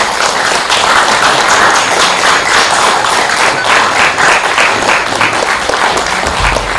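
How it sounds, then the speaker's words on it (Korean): An audience at a film press conference claps steadily to welcome the director and cast, a dense, loud burst of applause that holds for several seconds. "입장하실 때 따뜻한 박수로 맞이해 주시면 감사하겠습니다."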